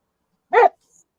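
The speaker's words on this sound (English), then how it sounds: "dog." A single short dog bark, close and fairly loud, from a pet dog indoors, followed by a faint high squeak and then quiet.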